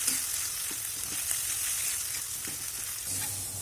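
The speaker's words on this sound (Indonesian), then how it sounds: "Aduk rata dan ini kita masak bumbunya sampai benar-benar matang dan tanak." Spice paste with lemongrass fries and is stirred in a pan. It gives a continuous, fairly loud sizzle with soft scraping strokes of the spatula, and no one talks.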